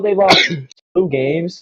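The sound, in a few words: sneeze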